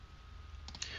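A mouse click on an activate-offer button in a shopping app: a couple of faint, quick clicks late in the moment over a low steady hum, quiet and close.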